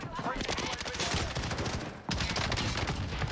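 An LAPA submachine gun fires in a video game, two sustained rapid-fire bursts split by a brief pause, loud and close throughout.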